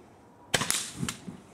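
Ignited gas flashes into a fireball with a sudden sharp pop and a short whooshing burst, followed by a fading rumble.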